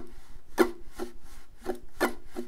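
Ukulele strummed in a down, down, up, up, down, up pattern on one chord, six separate brushed strokes in a steady rhythm, close and fairly quiet, with no talking.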